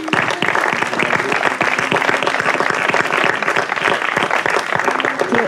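An audience at a memorial tribute event applauds the film extras, loud, dense clapping that carries on steadily throughout, with some voices mixed into the crowd noise.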